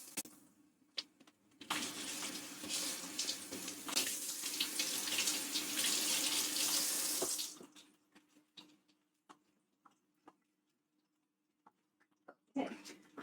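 Kitchen tap water runs hard for a light rinse while cooking cassoulet, a loud rushing splash lasting several seconds before it shuts off, followed by quiet drips and small clinks and a brief burst of water at the end.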